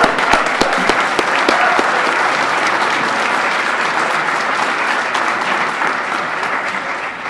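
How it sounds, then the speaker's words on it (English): Sustained audience applause at a swearing-in ceremony as a choir group exits, dense and steady throughout with a few sharper claps at the start, loud and close, no talking over it. "One more round of applause for Guilford Voices as they exit."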